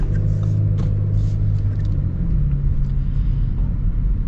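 A 2025 Audi S5 setting off at very slow speed, a low steady engine and road rumble heard from inside the cabin, even and fairly loud, with no talk.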